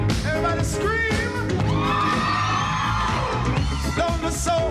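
A crowd at a live reggae concert screams and yells, a loud sustained roar of many voices layered over music and amplified singing.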